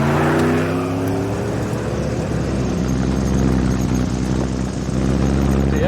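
A pickup truck's engine drones low and steady while driving through hill country toward a gold mine, a close continuous rumble that swells slightly as it pulls, with no talk.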